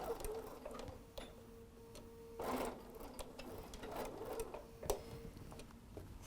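A sewing machine stitches back and forth to reinforce a seam on a Christmas face mask, a quiet, close, steady whirr with light ticking and a few short starts and stops.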